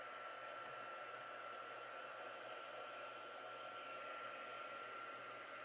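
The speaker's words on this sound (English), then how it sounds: "I don't want to get any heat from the heat tool" A steady, hissing blast of hot air from a small embossing heat tool warming up runs continuously at a low, even level, with no talking.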